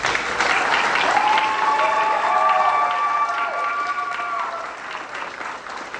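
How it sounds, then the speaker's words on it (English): An audience applauds and cheers after a high school jazz band concert, sustained clapping filling the room while a voice sings or calls out over it, the ovation slowly fading toward the end. "give one last giant round of applause to these bands"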